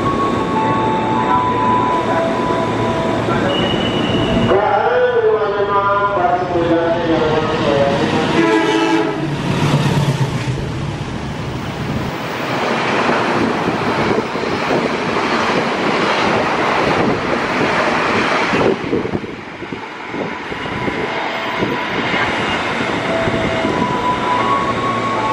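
An Indonesian passenger train rolls past, carrying a dining car converted from an ex Argo Sindoro or Argo Muria coach. A loud horn blast rises and falls, then a long, loud rush of wheels and wind.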